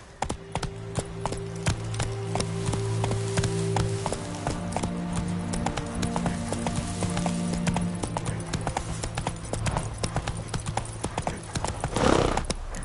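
Hooves clip-clop in a fast, steady rhythm as a horse gallops in Witcher 3 on PS5, with a brief rising swell near the end and no clear speech over it.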